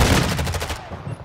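Gunfire in Call of Duty: Modern Warfare II comes as a quick, loud burst of close rapid shots that cuts off sharply after under a second.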